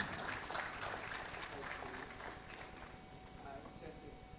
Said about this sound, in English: Please welcome all my panelists for me with a round of applause